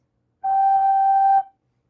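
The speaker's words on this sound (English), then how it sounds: "The third note is G, so on the left hand you have thumb," A single sustained recorder note, G, played with the left thumb and first three fingers, about one second long, steady and clear with a light breathy attack and no accompanying voices.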